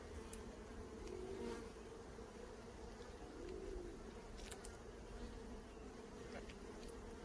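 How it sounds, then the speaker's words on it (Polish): A steady, low hum of many honeybees buzzing together inside a hive, close and continuous, with occasional faint clicks and taps. "na dennicy widzę sporo pszczół"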